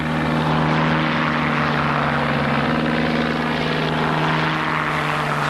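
A Messerschmitt Bf 109F fighter with a DB601 engine drones steadily overhead, a loud, continuous propeller-engine roar that holds even for the whole stretch with no voices.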